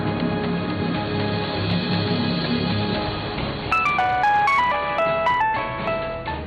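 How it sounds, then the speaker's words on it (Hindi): A phone rings with a melodic ringtone of bright, chiming tones that comes in partway through over a dense background bed and repeats as a short tune until the end. "बाप का फोन बजा"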